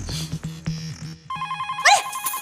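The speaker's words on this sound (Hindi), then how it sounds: "टप्पू का फोन आया, जल्दी टप्पू सेना को बुला, जल्दी टप्पू का फोन आया।" A telephone rings in a household scene from the Hindi sitcom Taarak Mehta Ka Ooltah Chashmah, with warbling electronic ringtone tones rising after a stretch of low background sound.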